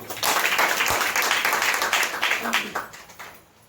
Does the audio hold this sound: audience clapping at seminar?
yes